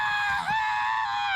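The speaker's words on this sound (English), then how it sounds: "He screams a lot." Jeff, a cartoon character from Clarence, lets out a loud, sustained high-pitched scream that dips briefly midway and then carries on.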